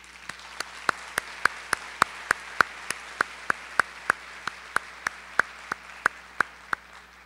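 Evenly spaced, rhythmic handclaps from an audience at a university conference at the Centro Universitario de la Costa, UdeG, repeating steadily and crisply for several seconds with no talking over them.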